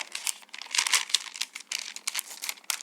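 A paper lunch bag being folded, crinkly paper crumpling and rustling close up, a steady run of soft crackles and folds with no voices.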